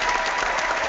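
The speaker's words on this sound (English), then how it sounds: "I'm trying to get you a round of applause, but I'm a bit slow with my Google effects here." A canned applause sound effect: a dense, steady wash of clapping from a crowd, loud and uniform for the full second, with no voices.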